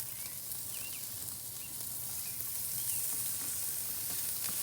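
Garlic butter melts and sizzles around pork chops on a hot Char-Broil grill, a steady close, bright frying hiss that holds evenly throughout with no speech.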